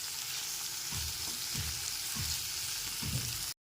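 Sliced tomato fries with ginger-garlic paste in a pan, a dense steady sizzle with soft rhythmic stirring scrapes, close and alone before cutting off abruptly.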